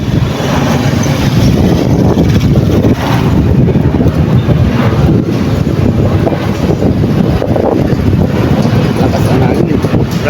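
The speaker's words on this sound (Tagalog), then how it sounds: "Lakas ang hangin." Strong wind buffets the microphone beside the Pasig River, a loud, continuous rumbling roar that runs throughout with no pauses.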